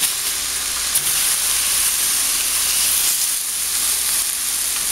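Tilapia and vegetables sear in a hot pan for a stir fry, giving a loud, constant bright hiss of sizzling oil with little variation and one or two faint clinks.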